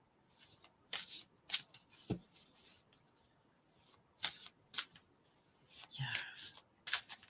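A deck of oracle cards is shuffled by hand in bursts of crisp riffling and flicking, close and fairly quiet, with a soft voice now and then between the bursts.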